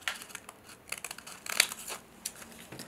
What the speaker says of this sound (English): just go ahead and cut a straight line all the way through